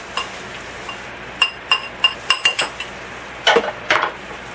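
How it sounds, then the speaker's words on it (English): Metal spoon stirring breadcrumbs, spices, cheese and pepper together in a bowl, a series of sharp clinks and scrapes in an irregular rhythm, close and fairly crisp against a quiet room. "we'll stir all of that together to make sure it's nicely mixed."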